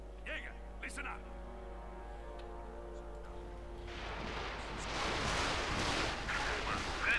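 Artillery barrage in the real-time strategy game Company of Heroes 2, a broad rumbling roar of shelling that swells loud over the second half while a commentator talks over the battle early on.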